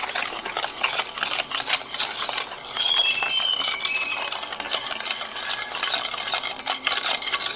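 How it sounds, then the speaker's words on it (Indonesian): Cendol mixture stirred with suji leaf juice, giving a continuous close scraping and swishing stir with small clinks of the utensil against the bowl, with no talk. "Kita aduk dulu."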